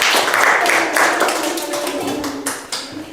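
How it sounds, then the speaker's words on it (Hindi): A group of students in a classroom clap for a classmate, a quick ragged patter of hand claps near the start that thins out into scattered single claps. "टनू टूडू के लिए एक जोरदार ताली होना चाहिए।"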